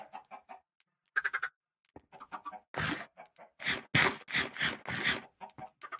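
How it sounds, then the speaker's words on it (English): Clucking chicken from the Minecraft video game, a series of short, sharp clucks and squawks in irregular bursts, louder toward the end, with brief gaps of silence between them. "I am sorry, little chicken."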